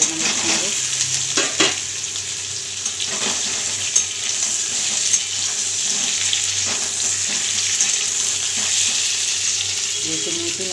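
Whole small new potatoes, boiled beforehand, fry in a pan with lightly fried green peas, a steady close hiss of oil with occasional pops and stirring clicks, no talk.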